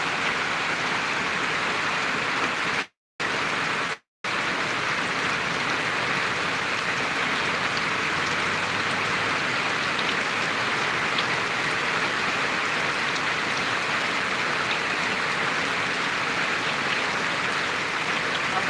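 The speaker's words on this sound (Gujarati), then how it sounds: "તો મિત્રો આ વરસાદ એમ તમને બતાવી રહ્યા છે" Heavy rain pours steadily in a dense, unbroken hiss, loud and close, with two brief dropouts near the start and no talking.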